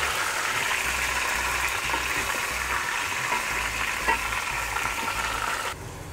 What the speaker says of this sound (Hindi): अच्छे से गोश्त की ना इसमें भुनाई कर लें ताकि सारे गोश्त का कलर चेंज हो जाए